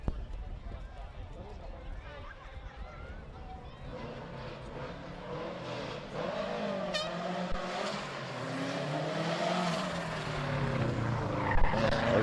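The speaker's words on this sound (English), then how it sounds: "the first of the challenge class cars heading up the hill" Challenge class rally cars climb a hill on the Strathalbyn town stage, engines rising and swelling as they draw nearer, under a commentator's voice.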